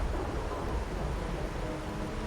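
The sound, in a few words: rain and thunder in video game Wuthering Waves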